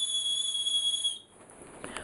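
A small toy whistle made to imitate birdsong gives a shrill, steady high tone for about a second, then cuts off into near silence.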